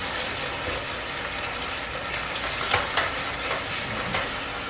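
Sweet and sour pork and vegetables stir-fry in thickening sauce over high heat. A continuous bright sizzle and crackle is heard alone, with scraping stir strokes rising briefly in the middle.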